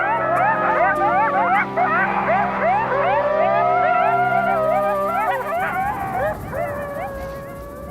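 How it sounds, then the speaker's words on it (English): Several coyotes in Yellowstone howl and yip together in a dense, overlapping chorus of rising and wavering cries, continuous and fairly close, with a steady low hum beneath. "This group howl means they're all still buddies."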